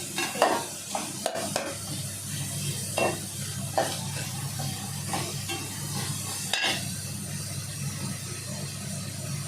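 Salted vegetables fry and sizzle in a pan while being stirred, with a continuous hissing sizzle broken by intermittent spatula scrapes and knocks, heard close with no talking.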